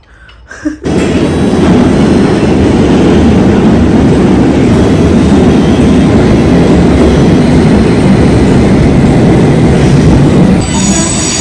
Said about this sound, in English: This is a District Line train to Richmond.